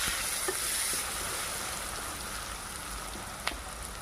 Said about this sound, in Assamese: পিঁয়াজখিনি এনেদৰে মছলাৰ সৈতে অকণমান সময় ভজাৰ পাছতে তাতে কাটি লোৱা আলু দি দিছোঁ